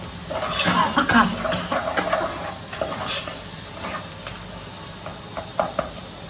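An egg garlic curry, Telangana style, gets stirred in a pan on a bachelor-room stove, with a spoon scraping and clinking against the metal over a light sizzle in irregular strokes close by.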